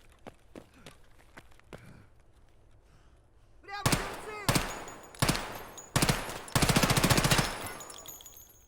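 Bursts of automatic gunfire from the video game Escape from Tarkov, starting with scattered faint shots and then loud, close rapid volleys in several rattling bursts, the last one long and sustained.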